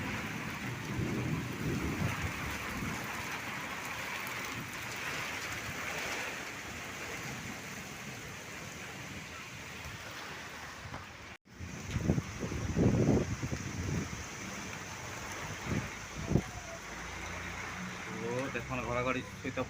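Heavy rain with wind and rumbling thunder, a steady broadband downpour that drops out briefly near the middle and then resumes with louder thumps. A voice speaks over it at times.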